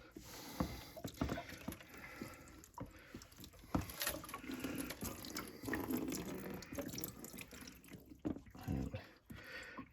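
Water drains out of a tank after its plug is pulled, splashing and gurgling unevenly in bursts and trickles at close range. Quiet but continuous, with no voices.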